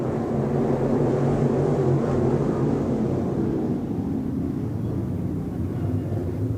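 Late model race cars roar around the dirt oval at Off Road Speedway, a dense, loud, continuous engine drone from a pack of cars with no talk over it.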